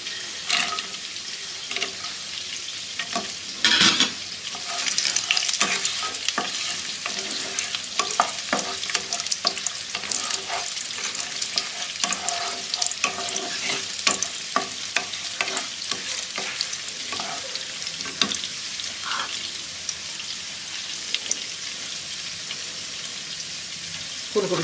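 Cashews and raisins sizzle in hot oil in a pan while a utensil scrapes and stirs them in quick irregular strokes, close and continuous throughout.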